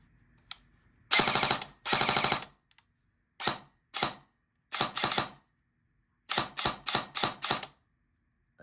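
A Lancer Tactical Gen3 airsoft gun with a tuned trigger fires in sharp bursts: two long rapid rattling strings, then several short single and double shots, and a final quick run of four or five bursts, close and loud with silence between.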